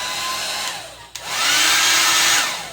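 A Conair wall-mounted hair dryer, plugged into a GFI outlet, switches on after a brief click and blows with a steady, loud broadband whoosh that holds close and constant to the end.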